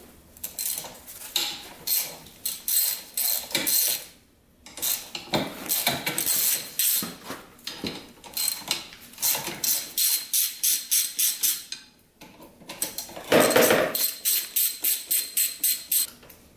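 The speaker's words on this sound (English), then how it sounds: "Now we're just going to take these four bolts out of here." A ratchet works the four handlebar bolts out of a Yamaha Warrior 350 quad, quick clicking bursts of pawl rattle repeated in runs with short pauses, close up and fairly loud, no voices.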